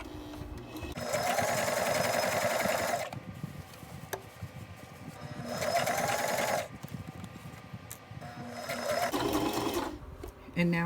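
Sewing machine stitching a slimmed suit sleeve, running in three steady bursts of rapid mechanical whirring separated by short pauses, close and fairly loud.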